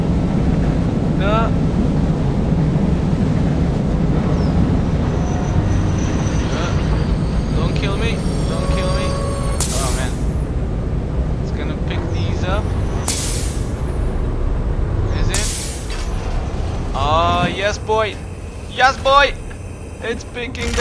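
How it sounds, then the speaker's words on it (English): A locomotive runs in the Satisfactory video game, with rumbling train noise and a few hissing bursts like air brakes under near-constant loud talk. "the loco is going to Cactus Express in order to pick up"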